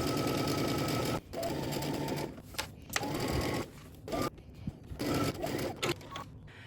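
A sewing machine stitches a seam at 5/8 inch allowance on a Simplicity pattern garment, running in fast buzzing bursts with brief stops and restarts, close and clear.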